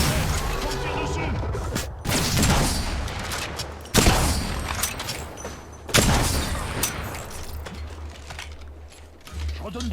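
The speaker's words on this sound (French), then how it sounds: "Ces andouilles me tirent dessus." Enemy gunfire in a sci-fi shooter game, rapid bursts and sharp cracks rattling over a dense mix of game effects, with several loud impacts and a speaking voice throughout.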